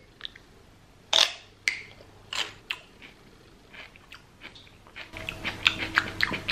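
Chewing thick crunchy vegan peanut butter up close, with sharp crackling crunches and wet clicks coming in irregular bursts that grow denser toward the end.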